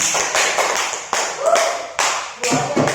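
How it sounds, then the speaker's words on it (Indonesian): A classroom of students clapping hands together, a burst of bright overlapping claps that stops and restarts in several short waves, with a voice speaking over part of it. "Ya, tepuk tangan semuanya."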